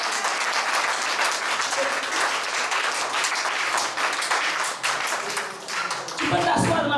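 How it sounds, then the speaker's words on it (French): Church congregation at a Christian worship service clapping and applauding loudly and steadily, a dense sustained wash of hands with scattered voices mixed in, shifting near the end. "Acclame très fort le Seigneur."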